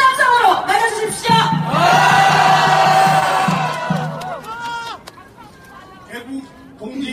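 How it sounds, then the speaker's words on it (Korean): A rally crowd cheers and shouts loudly in a public square, a surging roar of voices with whoops that swells, holds for several seconds, then thins into scattered calls and nearby talk. "큰 함성으로 맞아주십시오."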